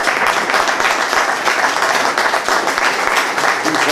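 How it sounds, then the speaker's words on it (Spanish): Audience applauding after a lecture on the geostrategy of the Spanish Empire, dense steady clapping from a room of listeners, loud and continuous throughout. "Pues bueno, muchas gracias, un aplauso a Javier."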